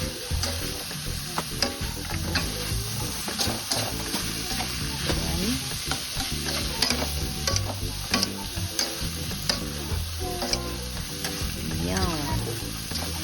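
Vegetables for pancit canton stir-frying in a hot pan, a continuous close sizzle with frequent scraping and tossing from a spatula across the whole stretch, busy and even, with no talking.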